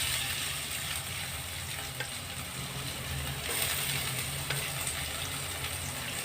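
Crushed garlic, ginger and green chili frying in hot oil for prawn biryani, a steady broad sizzle with faint scraping clicks, holding even and moderately loud throughout with no talk.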